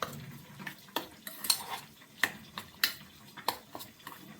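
A spoon stirs chintakaya pachadi, a tamarind pickle mixed with oil, in a pot, making a steady series of close, sharp scrapes and clinks against the metal at a regular rhythm with no voices.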